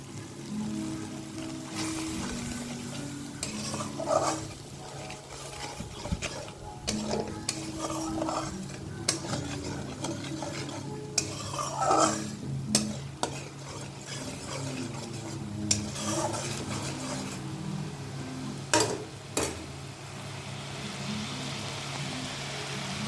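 Water poured into a pan of Kashmiri chilli and ground mustard, poppy seed, cashew and cumin paste for a khaira fish curry, with a spoon stirring and scraping over steady close sizzling and clinks of utensil against pan.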